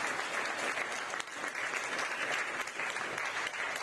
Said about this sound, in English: Another round of applause for Martin Dorville